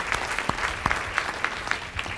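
Audience at a school superintendent's public forum claps in a steady ripple of applause, a moderate crowd close by with no talking over it.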